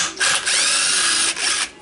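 A cordless impact driver spins off the short top muffler bolts on a Stihl 066 (MS 660) chainsaw during teardown, in two close, loud, whirring bursts with a brief pause between them.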